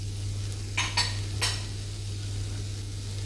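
Chilli powder, turmeric and garam masala sautéing in a pan, a low continuous sizzle with a steady hum beneath, broken by three quick scraping stirs of a utensil, close and unaccompanied by speech.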